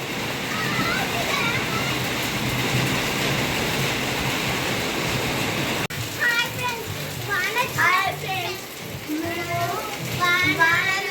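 Heavy rain falls in a continuous loud rushing wash for about six seconds, then continues more faintly beneath children talking and playing nearby.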